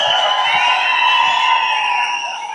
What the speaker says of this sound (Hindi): इतनी ताली होनी चाहिए